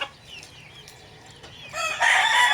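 Chickens in a small backyard coop, with a rooster crowing loudly and close by over clucking hens, the crow swelling up strongly toward the end.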